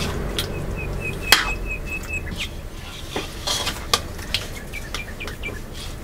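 Chicken being mixed by hand with marinade and food colour for a chicken changezi gravy, giving soft wet squelching and stirring sounds with a few sharp clinks of a utensil or bowl, close by and with no talking.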